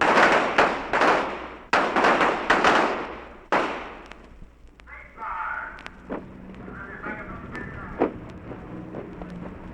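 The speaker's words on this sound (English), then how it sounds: "Small arms and the firing range." Small arms gunfire at a naval training center firing range: several loud, sharp reports in quick succession echo through the first few seconds, then fainter scattered pops and clatter continue under low background noise.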